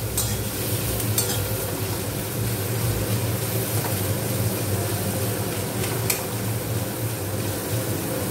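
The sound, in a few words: chicken and onion frying in a pan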